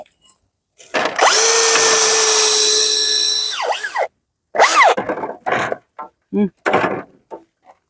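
A loud power drill whirs steadily for about three seconds, its pitch dipping as it bites, followed by short bursts of knocking and clattering.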